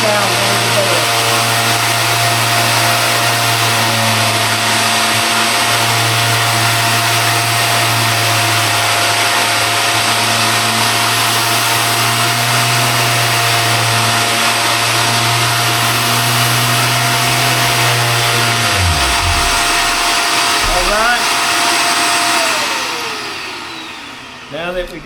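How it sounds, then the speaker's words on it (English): A shop vac and an electric machine sander run together while a wooden cutting board is sanded, a loud constant whine and roar close up for over twenty seconds, then both wind down and stop near the end. "there's no way to talk over this shop vac and the sander too"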